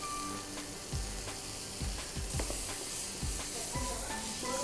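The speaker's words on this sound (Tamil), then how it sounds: "ஸோ வெங்காயம் நல்லா வதங்கிட்டு இருக்கட்டும்" Onions softening in butter in a pan, a soft steady sizzle with occasional stirring knocks and scrapes, fairly quiet and without talk.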